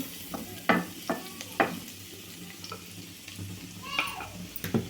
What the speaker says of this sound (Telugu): ఎల్లిపాయ ముక్కలు లైట్గా వేగాలండి